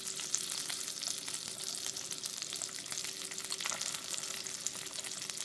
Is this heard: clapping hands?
no